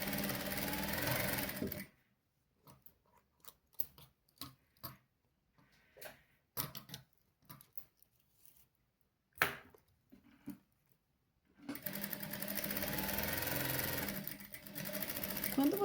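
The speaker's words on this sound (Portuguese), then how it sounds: "liguei a máquina, vamos iniciar a costura" A sewing machine stitching a tie runs in a loud, steady buzz at the start and end, with quiet clicks and handling noises in between.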